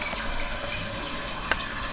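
Water draining steadily from a rainwater collection device into its drinking-water tank, a continuous even wash of flowing water with a brief splash near the end, heard alone.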